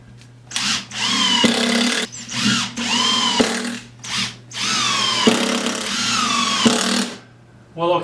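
Power drill driving a Torx screw into a pre-drilled hole in very hard red oak, loud and close, whining in several bursts of one to two seconds with short pauses as the trigger is released, ending with a final spin-up.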